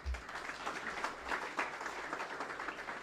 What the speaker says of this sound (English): Shouldn't that deserve a round of applause for Mr. Toure?